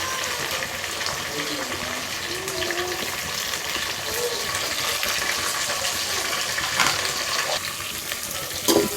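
Onions and green chillies frying and being stirred in a pan for biryani, a steady close sizzle with scraping stir sounds throughout, alone without voices.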